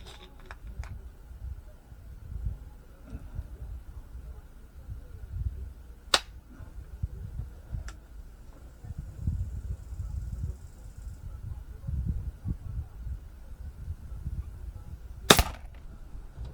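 A Beeman P17 air pistol fires Excite Coppa Spitzkugel pellets, giving two sharp, isolated cracks several seconds apart against a quiet, rumbling background.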